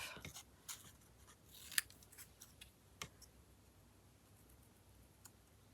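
Scissors snip at paper in a quiet room, producing a handful of light, irregular clicks and crisp cuts spaced over several seconds, close and soft.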